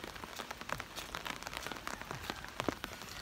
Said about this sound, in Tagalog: It's raining now here